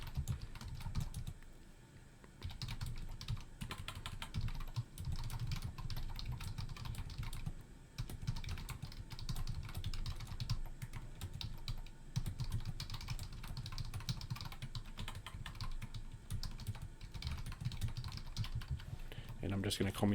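A note is typed on a computer keyboard, with a steady stream of close keystrokes running through the whole stretch and a voice talking over parts of it.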